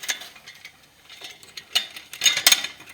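A wrench works a nut on a tractor compression fitting that lacks its compression washer, giving small close metallic clicks and ticks, louder toward the end.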